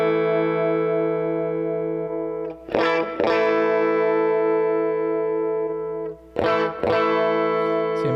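Electric guitar played through a NU-X MP2 amp modeler with a Marshall 1960A 4x12 cab impulse response, long sustained distorted chords that ring out, broken by two brief strummed restrikes, loud and close.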